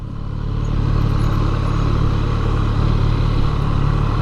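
A 2020 Triumph Street Triple RS motorcycle engine runs with a steady, close, loud drone, holding an even rumble without pauses.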